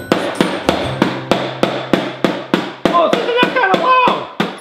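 A toy mallet hammers on the seats of a toy Mickey Mouse Clubhouse car: a loud, close run of about fourteen sharp plastic knocks in a quick, even rhythm, with a faint voice-like sound partway through.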